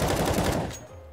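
Rapid automatic gunfire from a video game as a player pre-fires an angle in a tactical shooter, a loud burst of closely spaced shots lasting under a second before cutting off.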